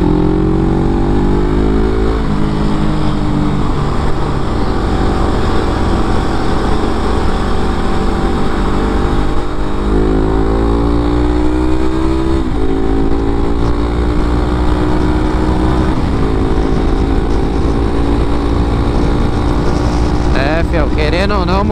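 A Suzuki GS500E motorcycle engine revs hard while riding, its loud whine climbing through the gears with rising and falling pitch sweeps, a steady roar continuing underneath as a rider talks over it.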